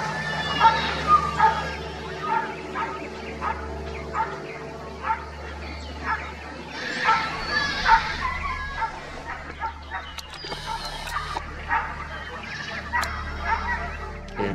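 Racing dogs at a dog racing track bark and yip excitedly in repeated bursts with whimpers between, fairly close, over a low steady hum.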